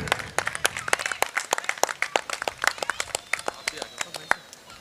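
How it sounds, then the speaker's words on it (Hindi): Audience applause at an outdoor Ramlila stage performance during an honouring ceremony, a scattered group clapping briskly and irregularly at close range, with faint background voices. "जोरदार तालियां।"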